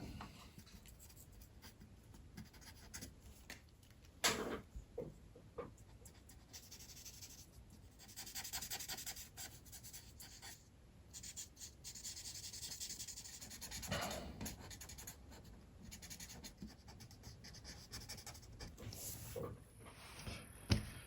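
Markers being used to color a pumpkin orange on paper make soft, continuous rubbing and scratching strokes in quiet bursts, with brief pauses between passes.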